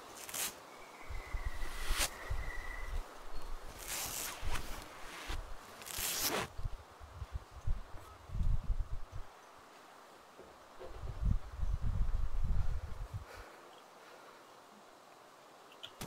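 Bandaging in the survival game DayZ comes through as repeated soft cloth rustles and tearing, wrapping swishes in uneven bursts, close and moderate in level, with no one talking.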